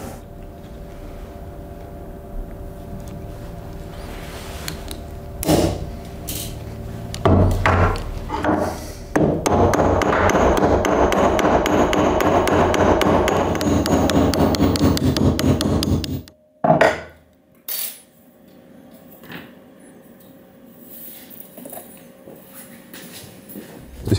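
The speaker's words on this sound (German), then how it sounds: "dann hämmerst du den Kopf in die Breite" Steady metallic hammer blows flatten and widen the head of an iron rivet nail on a piece of armour, first as scattered strikes and then as a long dense run of rapid ringing taps, close and loud, before stopping abruptly.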